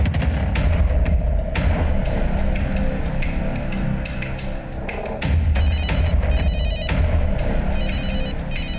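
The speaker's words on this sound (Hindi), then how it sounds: "लड़की के पति का फोन आ रहा है।" A telephone rings repeatedly in a tense Hindi crime-drama scene, its electronic trill cutting through busy background music and thuds.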